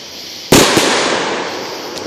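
Fireworks at the Marietta Moon Boom 2015 show: a loud, close burst hits sharply, a smaller pop follows, then a long crackling rumble slowly fades, with a faint later pop.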